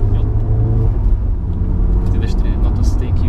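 A deep, steady exhaust rumble from an Alfa Romeo Giulietta QV with a Supersprint exhaust runs throughout, loud and close, with people talking in Portuguese over it.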